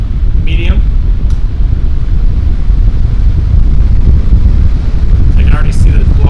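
A Newair 18-inch high velocity floor fan runs on its high setting, giving a loud, steady broadband rush of moving air that buffets the microphone throughout, with a voice speaking briefly over it.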